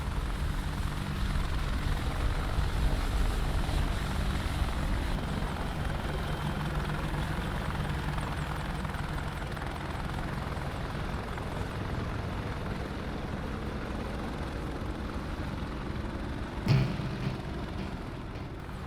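An AH-64D Apache helicopter in DCS World spools up and lifts off, its rotor and turbine roar a steady, dense drone throughout, with a single brief click near the end.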